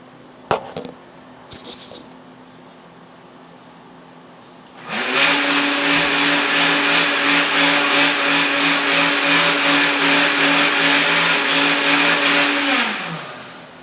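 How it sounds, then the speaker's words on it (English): A blender powered from a portable power station starts up after a few light clicks and whirs loudly and steadily for about eight seconds before cutting off; nobody speaks. "Now how about I turn the blender on"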